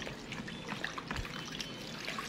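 Onion water trickles over raw lamb ribs in a soft, continuous close pour with light splashing and dribbling, no voices.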